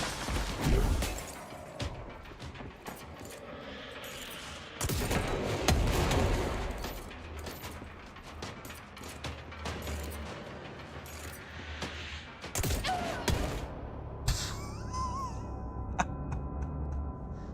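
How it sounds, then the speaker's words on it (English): Rapid bursts of gunfire from a weapon in the video game Control, loud cracking volleys with crashing impacts and shattering debris, repeating in heavy clusters across the span. "don't charge this gun. It shoots well beyond the parameters of the targeting reticle, clearly."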